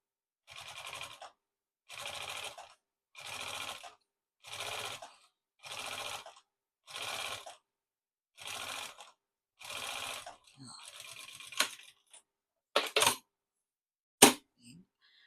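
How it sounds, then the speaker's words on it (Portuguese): A sewing machine stitches a baby's toiletry bag in short, even bursts of whirring, about nine runs with brief pauses between, then a few sharp clicks and knocks as the fabric is handled. "Agora a gente vai passar a costurinha aqui, ó."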